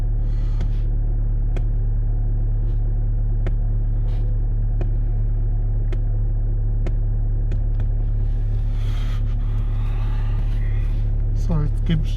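A Skoda Octavia 1.6 TDI diesel idles steadily after a cold start at about -20 °C, a close, constant low rumble with light periodic ticks; a person talks over it near the end.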